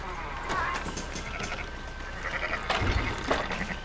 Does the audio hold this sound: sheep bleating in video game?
yes